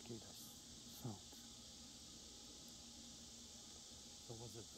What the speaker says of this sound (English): And the little cicada sound.